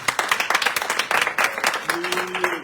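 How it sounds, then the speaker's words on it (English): Applause from the audience at a town hall meeting, a brief burst of dense clapping that stays loud and close and then begins to fade, with a voice entering near the end. "So please do give him a round of applause."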